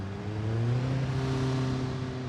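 Car traffic in the BeamNG.drive video game, a steady mid-pitched engine hum with a slight rise in revs, close and continuous with no talk.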